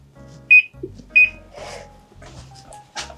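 A kitchen oven timer on a pizza-baking setup gives two short, loud electronic beeps as it is set for eight minutes, followed by quieter clicks and handling noises.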